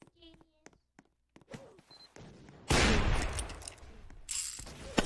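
Roblox game gunfire: sharp shots early on, then a dense, loud volley of rapid gunfire bursts, with faint voices underneath.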